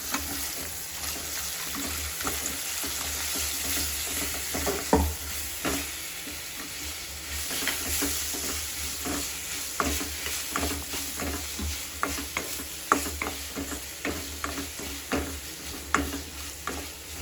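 Ginger garlic paste frying and being stirred in a pan at home, a steady sizzle under repeated scraping stir strokes, close and alone with no talk.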